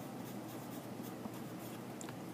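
A pen scratches across a paper check in short, quiet strokes while a date is written, faint and close.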